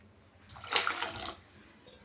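Water is poured into a cooking pot of sambar with lentils, potato and vegetables, giving a soft, brief splashing gush that swells and fades within about a second. The pour is faint and close, with no talking.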